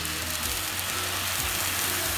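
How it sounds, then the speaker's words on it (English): Smoked sausage, pineapple and teriyaki sizzling on a smoking hot grill, a steady dense hiss and crackle with no pauses, moderately loud and close. "We're gonna take this and throw it on our smoking hot grill."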